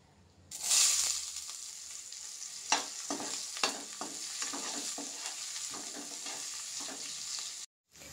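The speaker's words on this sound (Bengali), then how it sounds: "পেঁয়াজটা ভাজা ভাজা হয়ে গেছে" Chopped onion sizzles in hot oil with whole cumin and dried chili, a continuous close hiss broken by repeated spatula scrapes and knocks against the pan; it falls briefly silent at the end.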